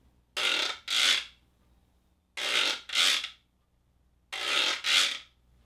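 A guiro scraped with a stick in slow circular strokes, three pairs of raspy ridged scrapes separated by short pauses, close and clear with nothing else heard.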